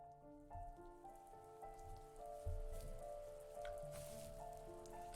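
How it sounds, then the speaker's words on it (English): Rain falls in the video game The First Tree as a faint, steady patter on surfaces, with soft sustained musical tones ringing over it. "The rain cascaded onto the Jade Valley where the entrance to the tree was"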